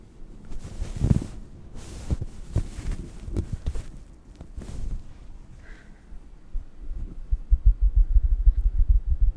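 Soft thumping drum-like pats on a furry plush toy, then a fuzzy scratching rustle of its fur close to the microphone, irregular in rhythm with low muffled thuds.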